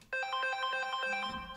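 A mobile phone ringtone plays indoors during a lecture, a quick repeating melodic pattern of bright electronic tones that stays moderately loud and clear before trailing off near the end.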